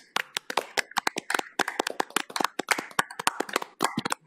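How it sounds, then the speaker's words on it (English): A small group claps at a public meeting, giving scattered, uneven claps that stay close and distinct for about four seconds with no talk over them. "if you could just join me in a round of applause"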